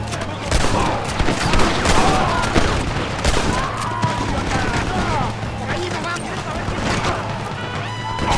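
Dense gunfire from the video game Red Dead Redemption, rapid overlapping shots and crashes running continuously and loud throughout, with shouting voices mixed in beneath the firefight.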